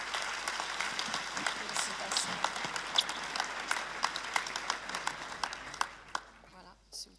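At a town's New Year wishes ceremony in Habsheim, a hall audience applauds a retiring honoree, with steady moderate clapping, a few sharper claps standing out, and a quiet voice underneath, fading near the end.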